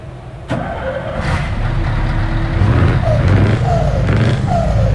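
A truck engine in Euro Truck Simulator 2 cranks and catches, then settles into a loud, steady diesel rumble with a rising rev and a few faint beeps layered on top.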